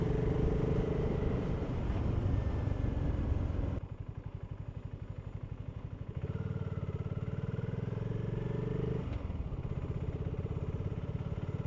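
A BSA Gold Star 650 motorcycle rumbles steadily on a real-world test ride, its engine note loud and continuous, dipping briefly and then rising again with no voice over it.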